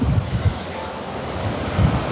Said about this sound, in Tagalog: malakas ang agos ng dagat,